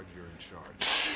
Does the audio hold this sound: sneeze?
yes